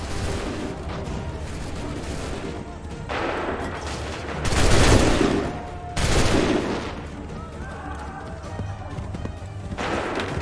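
Musket volleys in the video game Assassin's Creed III: several loud, booming bursts of massed gunfire mixed with battle noise, with voices heard among the shots.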